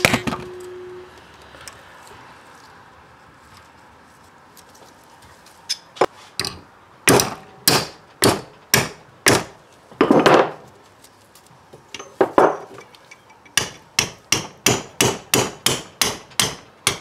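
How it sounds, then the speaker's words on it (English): Hammer tapping a clutch pack pin into a Ford 8.8 posi differential, a sharp metallic series that begins sparse and builds into steady rhythmic strikes, loud and close. "And just keep tapping on that until you can get this pin lined up."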